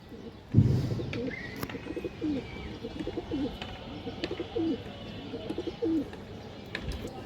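Pigeons in a large loft collection coo in repeated low, throaty phrases, several birds overlapping near and far, with a sharp thump near the start and faint chirps in the background.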